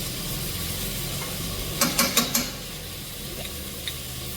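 Ginger and garlic frying with softened onions for a goat meat and apple gourd curry, a steady dense sizzle with a quick cluster of spoon scrapes and knocks against the pan midway.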